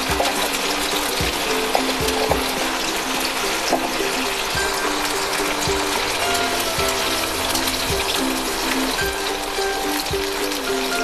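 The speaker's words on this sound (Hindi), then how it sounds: "मैं इसे यहाँ डीप फ्राई कर रही हूँ।" Marinated baby corn deep frying in a pan of hot oil gives off a steady, dense bubbling sizzle that holds at an even level throughout, with no voices.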